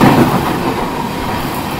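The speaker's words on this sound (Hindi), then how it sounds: "सो आज की जर्नी होने वाली है train number 15962 Dibrugarh Howrah Kamrup express में" The Dibrugarh-Howrah Kamrup Express runs on its rails, a loud, close and continuous rumble of wheels and carriage noise that holds steady throughout, with no voices.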